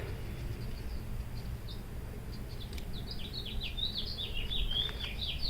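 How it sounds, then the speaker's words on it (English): Garden birds singing outdoors, faint high chirps and quick repeated song phrases that get busier toward the end, over a low steady outdoor background rumble. "Can you hear those glorious birds?"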